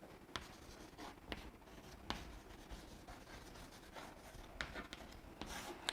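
A pen or chalk scratches out handwriting in a quiet classroom, with soft, uneven strokes and brief taps that come alone, without talk.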